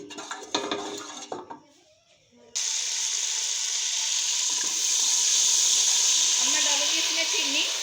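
Ghee poured into a hot pan for making sugar syrup for sweet colored mutanjen rice, bursting into a loud, steady hiss and sizzle that holds for several seconds after some brief kitchen clatter and talk.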